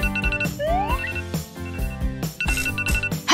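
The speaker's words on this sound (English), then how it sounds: "Okay, let's shut off this alarm." A phone alarm rings in repeated bursts of bright tonal chimes and warbling melodic notes, loud and close, pausing briefly between phrases.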